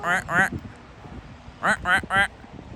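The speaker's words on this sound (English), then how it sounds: "Sometimes you gotta be careful with these geese." Geese honk nearby in a walking setting, two quick pairs of nasal calls separated by a quiet gap, loud and close.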